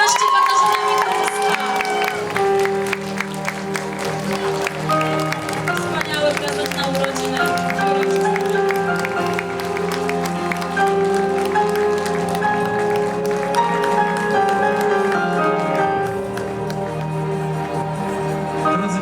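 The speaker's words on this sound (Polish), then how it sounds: "Państwo naprawdę wielkie, wielkie brawa." A crowd claps and cheers for the newly crowned Miss Ziemi Siedleckiej 2013 at the beauty pageant. The applause runs steadily and loudly for the whole stretch, mixed with prominent music and some voices.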